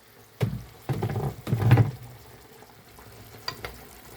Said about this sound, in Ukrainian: Заливаю трішечки водою і хай потушкується.